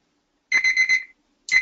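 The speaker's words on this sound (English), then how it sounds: "Our timer is up." A timer alarm goes off during a lash lift treatment, sounding four quick electronic beeps in a row, then a short pause and the start of a fifth beep, close and clear with no talking.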